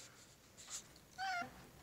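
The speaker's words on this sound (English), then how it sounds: "That was our cat." Cat giving a single short meow nearby, preceded by a faint brief sound, in an otherwise quiet room.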